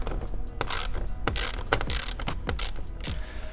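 A ratchet drives bolts into a Maxton Design body kit on a Toyota Supra, making rapid, crisp mechanical clicking in uneven bursts close by, with short pauses between runs and no talking.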